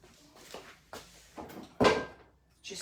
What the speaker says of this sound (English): Just going to close that door too.